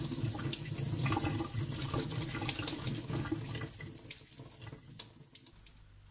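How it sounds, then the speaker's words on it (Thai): Muddy wild mushrooms are rinsed under a running tap, giving a steady close splash of flowing water with small shifts as the caps are turned, gradually softening toward the end; no voices. "แปลงอันนี้ไว้สำหรับทำความสะอาดเห็ดนะคะ มันต้องล้างน้ำอ่ะมันเลอะโคลนมันไม่ล้างไม่ได้"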